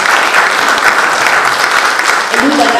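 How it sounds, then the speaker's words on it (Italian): At an Italian book presentation, the audience claps loudly and continuously. A voice briefly rises through the applause near the end. "Qui magari facciamo un applauso"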